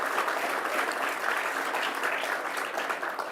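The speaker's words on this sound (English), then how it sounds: "How about a round of applause for all of the ADS team?" Audience applause for the engineering team at the grand opening of a technology center, a steady dense wash of clapping lasting the whole stretch, loud and close, with no voices over it.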